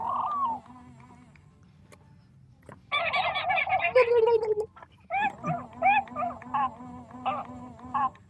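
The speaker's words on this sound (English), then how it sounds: "It's just like random bird noises." Strange warbling, gobbling bird calls, like a turkey, come in bursts with quiet gaps between, fairly close and loud.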